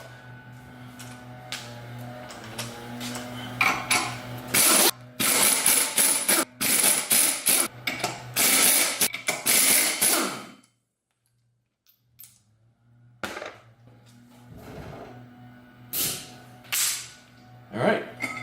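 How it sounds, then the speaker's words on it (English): An air tool with an 18 mm socket spins sprocket nuts off a BMW S1000RR track motorcycle in loud, repeated rattling impact bursts, several in a row, followed by a brief pause and more scattered bursts over a steady background hum. "I'm going to use air tools this time, so I'm using an 18 mil socket,"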